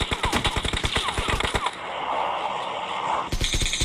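Rapid automatic gunfire in an online shooter game, a fast burst of sharp cracks followed by quieter rumbling, then another shot at the end, loud and close.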